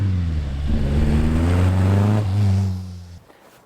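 The engine of a 1965 ex-German fire service panel van revs up close by, holds a loud, rising drone, then drops and dies away near the end.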